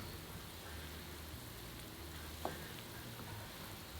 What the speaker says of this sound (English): Transfer the chili peppers that we ground into the oil. Cook until crispy for about 3 minutes